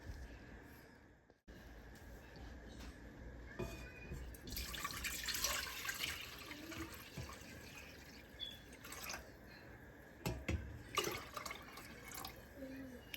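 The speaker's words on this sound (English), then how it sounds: "I'm gonna put some water in this boiler here, okay? And I'm gonna fill it about halfway." Tap water runs into a pot for banana pudding in a home kitchen, a soft dripping and gurgling fill that swells and fades over several seconds, faint and close, with small handling clatters.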